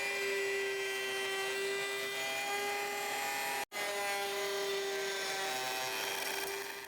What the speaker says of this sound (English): Now I'm going to just route from about the middle of this down to the edge